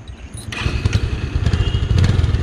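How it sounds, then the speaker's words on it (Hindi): Yamaha R15 V3 motorcycle engine running while being ridden, a steady low rumble with rapid pulsing that grows slightly louder across the short stretch, close and continuous with no talk. "बट इस बाइक को चलाने का मजा ही हो रहा है। Yamaha R15।"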